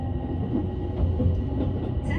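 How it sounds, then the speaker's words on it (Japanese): The Raku-Raku Yamato commuter limited express train running between Nara and Osaka, heard from inside as a continuous rumble of wheels on rails, with a faint chime near the end. "通勤特急のこの電車は天王寺を経由します"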